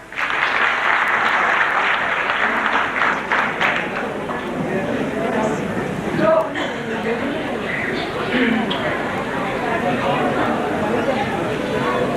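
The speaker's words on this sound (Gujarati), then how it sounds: "એવા આ જોરદાર કલાકાર આપની જોરદાર તાળીઓની દાદ માંગે છે શ્રી પ્રવીણભાઈ વ્યાસ." An audience at a stand-up comedy show gives a loud burst of applause that stays strong for a few seconds, then settles into a lighter, sustained clapping with some murmuring voices.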